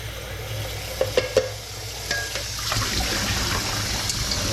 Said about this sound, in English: I'll run some cold water in the noodles just to stop the cooking process.